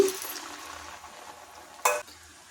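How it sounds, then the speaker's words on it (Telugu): Jantikalu (murukku) dough is dropped into hot oil, giving a faint, steady frying hiss and one brief sharp clink near the end. "నూనె బాగా కాగింది మన జంతుకులు దీంట్లోకి వేసేసుకుందాం"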